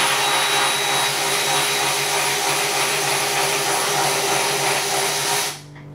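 Electric ratchet wrench spinning a 13mm socket during a Tesla Model 3 interior install: a loud, steady motor whir held close for several seconds, then cut off abruptly near the end.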